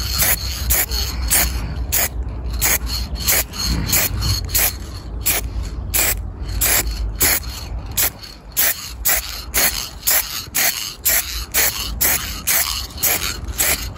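Aerosol can of Action varnish sprayed onto small car parts of a high-mileage Audi A3, a steady hiss in repeated short bursts, close and fairly loud, with no talking.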